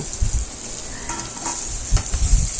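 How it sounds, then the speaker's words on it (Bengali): Prawns fry in hot oil in a pan, a steady close sizzling hiss broken by a few low thumps and scrapes of stirring, with no talking. "চিংড়ি মাছটাকে খুব বেশি ভাজছি না"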